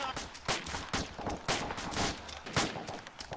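Rapid AK rifle gunfire rattles through a video game firefight, with sharp repeated bursts and overlapping shots in quick irregular rhythm, loud and close, alongside other battlefield noise.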